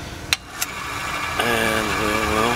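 An indexable carbide mill cuts a new brake pad for a Cub Cadet 129, a steady machine hum carrying two sharp clicks early on, then a denser harmonic whine of the cut from the midpoint onward, close and moderately loud.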